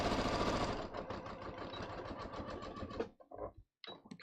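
A sewing machine stitches along a trouser hem, joining the original stitching, with a rapid, rhythmic mechanical chatter for about three seconds that then stops, followed by a few brief clicks and handling sounds.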